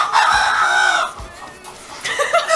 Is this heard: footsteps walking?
no